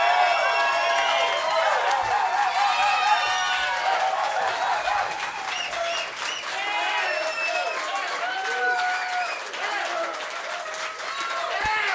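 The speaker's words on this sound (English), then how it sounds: "big round of applause for the film crew, the sound crew" An audience at a lo-fi music video shoot applauds the film crew, with sustained clapping and some cheering filling the whole stretch at an even, moderately loud level.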